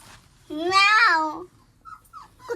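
A single drawn-out whine from a dog, high and nasal, close by, followed by a few faint short squeaks in a quiet room.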